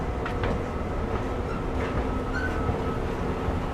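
A Metromover train at Brickell City Center station in downtown Miami, rolling past with steady low rumble and rail noise, faint squeals and clicks over it, continuous at moderate loudness with no talking.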